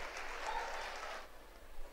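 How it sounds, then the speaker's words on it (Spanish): Secondary school students applaud at a school assembly, a steady broadband patter of clapping lasting about two seconds, fairly soft and unbroken, with no talk over it. "Por eso le damos un aplauso."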